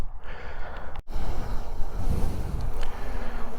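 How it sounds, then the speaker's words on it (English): Outdoors during a motorbike ride and drone flight, gusty wind buffets the microphone in a steady low rumble, broken by a sharp dropout near the one-second mark, then continuing unevenly. "Yeah, a little bit windy."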